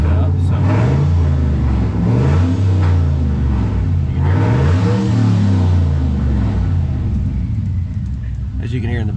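A turbocharged LS-powered truck engine revs in the background, with a steady low rumble that swells and eases in repeated pulses throughout.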